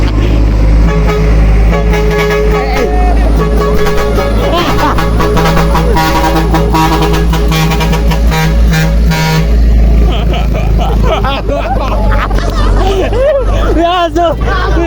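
Loud busy street scene with a truck horn tooting repeatedly among engine rumble and a crowd of voices chattering nearby.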